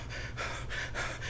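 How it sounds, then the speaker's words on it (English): A man panting hard during a bicep workout, quick rhythmic breaths about three to four per second, close to the microphone over a low background hum, with no speech. "Panting's happening."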